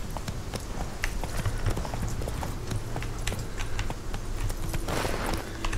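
Horse hooves clip-clop along a path in The Witcher 3, a steady stream of fairly soft rhythmic beats mixed with ambient game sound and music.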